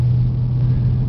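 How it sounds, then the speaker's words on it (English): Red Ford Mustang GT with a five-speed manual gearbox driving at low speed, its engine giving a steady, loud, close-up low rumble with no talk over it. "I'll take it up to highway speed as soon as I get past these speed bumps here."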